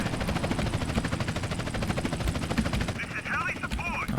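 Helicopter in GTA San Andreas, a steady rapid rotor chop pulsing continuously at moderate loudness, mixed with gunfire-like bursts and someone talking over it.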